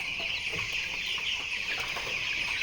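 Broiler chickens fourteen days old fill a farm shed with dense, continuous clucking and chirping, steady and fairly close throughout with no talk.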